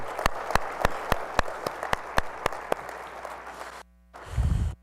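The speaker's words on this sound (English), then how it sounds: "Once again, a round of applause for outstanding achievements from high school coaches in our association." A small number of hands clap sharply and sparsely at a track and field coaches' convention opening session, about a dozen distinct claps, then a brief silence and a short burst of low noise.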